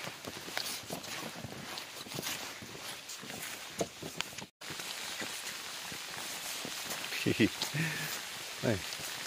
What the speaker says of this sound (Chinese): 有啲落雨啊而家。